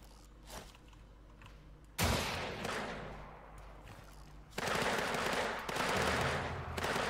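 Gunshots strike a box of ammo lying on the ground in Weird West, with a sharp report, a sudden loud burst at two seconds and a heavier, sustained crackle of firing from about four and a half seconds on.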